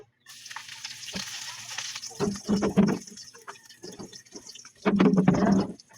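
Garlic hits hot oil in a pan and sizzles in bursts, the crackling swelling and fading as it is stirred, with quiet gaps between and a loud final flare of frying.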